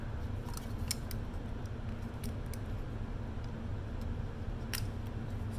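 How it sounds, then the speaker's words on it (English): Scissors snipping rubber insulation off an old electrical cord, a few sharp, quiet close clicks scattered over a low steady room hum. "I like to just take that and just trim that off a little bit."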